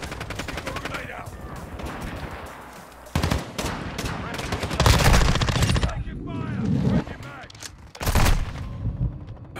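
Decoy grenade gunfire in Call of Duty Modern Warfare 2 during a Shoot House match, loud close bursts of rapid shots in several volleys with short gaps, mixed with game voice chatter.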